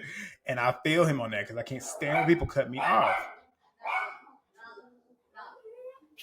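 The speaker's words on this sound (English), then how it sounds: "Y'all know that's the dog." A dog barks a few times in quick yips and a short whimper, moderately close, while someone talks over it for the first few seconds.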